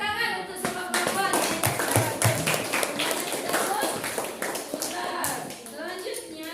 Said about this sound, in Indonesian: Tepuk tangan untuk semua perempuan.